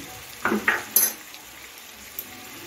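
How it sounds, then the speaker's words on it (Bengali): Spoon scraping and clinking against a pan as salt is mixed into mixed vegetables cooked with spices and green chilli, three quick close strokes followed by a fainter tap, with a soft sizzle underneath. "এখন আর নুনটাও সবজির সঙ্গে ভালো করে মিশিয়ে নিচ্ছি"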